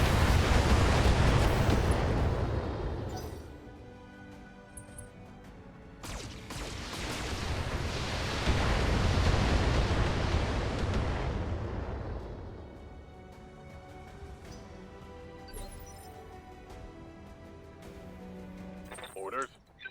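Mech weapons firing in the BattleTech video game, heavy rumbling booms that swell and roll over several seconds in two big waves, then fade into quieter game sounds with a light musical score.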